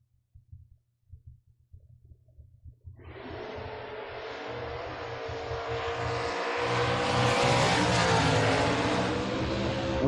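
Drag race launch between a Ford Mustang and a Tesla: quiet low idle rumble and brief blips, then a sudden loud broadband roar at about three seconds that swells and holds steady through the rest.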